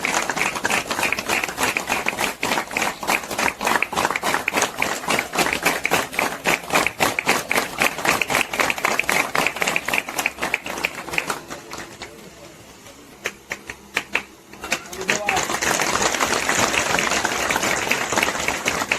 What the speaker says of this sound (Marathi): चालूच राहू दे टाळ्या.